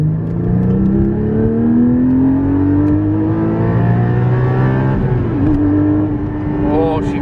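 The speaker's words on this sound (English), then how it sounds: "Oh, she revs high as well." A Miami Blue Porsche Cayman GT4 718 engine rises in a long sustained rev, pitch climbing steadily for several seconds, then dips briefly and holds high, loud and close with a voice talking over it.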